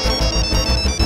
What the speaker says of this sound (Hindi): हमको लग रहा है फोन की घंटी बजी।